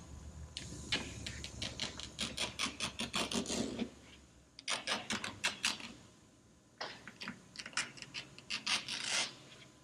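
Excess material is trimmed off the body of a 1967 Shelby GT500 during restoration, rapid rasping cuts in three bursts with brief pauses between, close and fairly crisp.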